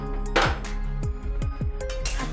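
Coriander seeds dry roasting in a kadhai, stirred with a metal spoon that scrapes and clinks against the pan in a steady series of strokes over a low hum, close and clear.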